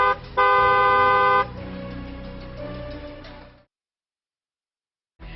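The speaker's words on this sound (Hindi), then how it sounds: "हॉर्न बजाना जरूरी है" A car horn honks in a steady blast on the street, with traffic noise continuing before the clip cuts to silence.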